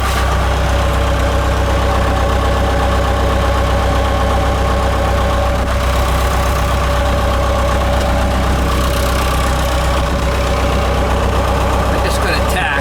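A Trackless MT5 tractor's engine runs loud and close at a steady, rumbling idle throughout, with a faint rattle near the end.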